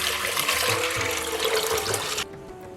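Water gushes steadily into a pressure cooker holding washed red kidney beans, a loud continuous splashing pour that cuts off abruptly near the end.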